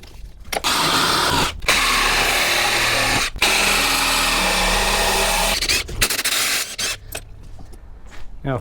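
Power tool bursts while unbolting the front end of a drift kart built around a rotary RX7 setup, several loud sustained runs of a few seconds each separated by short pauses, close by, ending with a few brief clicks and taps.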